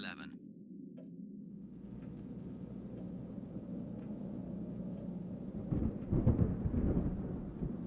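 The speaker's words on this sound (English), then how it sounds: "That just sounds like a storm." A thunderstorm with a long rolling rumble of thunder that builds and grows louder toward the end, heard in a cabin setting with no talk.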